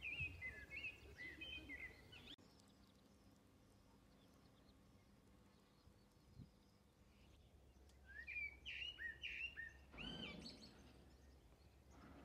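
Several birds sing and chirp in open countryside in the Cotswolds in spring, bright repeated phrases at the start and again toward the end, with a quieter stretch between and a soft low thump midway.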